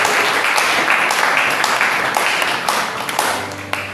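A church congregation applauding and acclaiming the Lord, steady loud clapping from a crowd with cheering voices mixed in, continuous throughout with slight swells.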